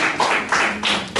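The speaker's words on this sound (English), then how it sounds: "That is a well-deserved applause." Audience applause at a political lecture forum, a short burst of clapping from a crowd in a hall, fairly loud and steady, with no talking over it.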